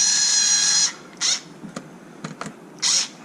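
Small power driver tightening screws while installing an LED kit on a Kraton 8S RC truck: a one-second whir, then short bursts and faint clicks, with a final brief whir.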